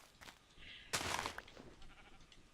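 A single clear sheep bleat from the video game Minecraft, over a quiet background with a few faint game sounds.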